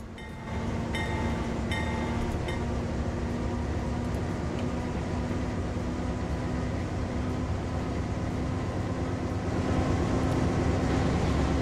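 Steady rumble of a train running in the video game Transport Fever 2, continuous and fairly loud throughout with a sustained low hum and brief higher tonal squeals near the start, no talking over it.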